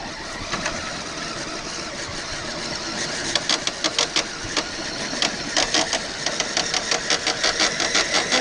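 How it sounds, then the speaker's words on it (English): A small motor on a Traxxas radio-controlled vehicle whines steadily, then breaks into repeated grinding, chattering bursts as the slipper clutch slips while it strains to climb, growing denser toward the end. "You'll hear it grind here in a little bit as it tries to hop and pull itself up."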